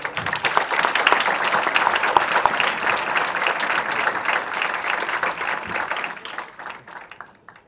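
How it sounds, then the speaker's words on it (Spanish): Audience applause for presenters Carlos López Beltrán and author Federico Navarrete at a book launch at FIL Guadalajara 2013, a dense, steady round of clapping that holds for several seconds before thinning and fading out. "para quienes pido un fuerte aplauso, por favor"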